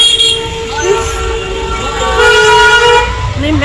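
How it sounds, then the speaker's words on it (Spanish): Car horns honk in loud night street traffic, several overlapping sustained blasts sounding over a steady roar of engines and road noise. "es un ruidajal aquí con el claxon, de verdad"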